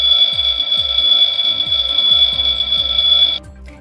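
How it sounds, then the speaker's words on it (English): A toy fire station alarm rings with a steady electronic tone over rapid mechanical clicking, close and moderately loud, then cuts off abruptly near the end. "They check out the master alarm."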